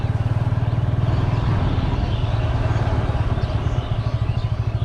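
A vehicle engine runs close by near a riverside babla forest, a loud, steady low throbbing drone with rhythmic pulsing that holds for the whole stretch, with no voices.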